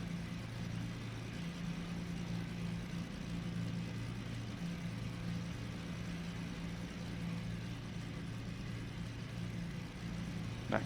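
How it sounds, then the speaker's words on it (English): A simulated Beech BE60 Duke twin piston engine idles in the FSX flight simulator, a steady, quiet low drone with an even hum that stays unchanged throughout. "So that's idling, and it gets louder when you go higher thrust."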